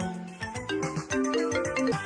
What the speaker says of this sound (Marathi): जायड्याचा फोन ते व्हिडिओ कॉल.